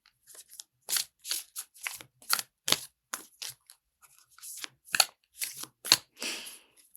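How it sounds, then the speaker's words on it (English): A deck of playing cards being shuffled in repeated short riffling bursts, about a dozen crisp rustles spaced through the moment, close and fairly quiet with no talk. "and one more little shuffle."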